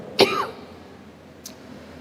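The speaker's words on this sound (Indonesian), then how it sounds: "Tadi jamaah banyak batuk ya." One sharp cough from a member of a congregation at an evening Islamic religious study gathering, followed by a fainter second cough over quiet room tone.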